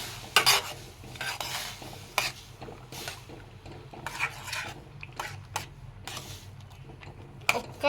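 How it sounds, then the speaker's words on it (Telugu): A ladle stirs pasta in a home kitchen pot, making repeated scraping and clinking strokes in irregular bursts against a low steady background hum, with no talking. "సో ఇప్పుడు గరిటెతో కలుపుదామండి."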